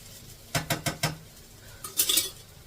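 Metal pots and utensils clatter in a home kitchen while bitter gourd curry is being cooked, a quick run of four sharp clanks followed by a brighter jangling scrape, close and loud with no talk.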